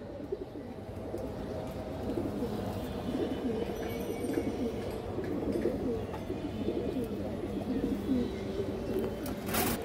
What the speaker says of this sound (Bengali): দেখতে অনেক সুন্দর লাগে এটা মাদি কবুতরটা